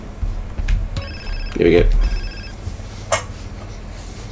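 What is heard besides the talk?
phone ringing in video game Grand Theft Auto San Andreas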